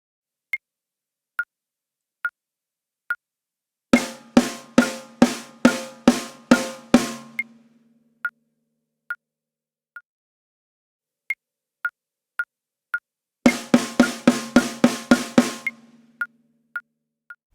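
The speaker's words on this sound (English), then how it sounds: "so if we play a bar of eighth notes, they sound like this" A bar of evenly spaced straight eighth notes played on an instrument, two runs of even, bright, struck tones over a steady soft metronome-like tick that continues alone between them.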